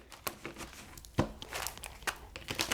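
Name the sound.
shuffling cards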